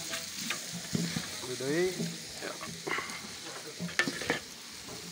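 Vegetable rice cooked in bulk for an event, stirred and scraped in a large sizzling pan, with steady frying hiss and clattering stirs beneath someone speaking.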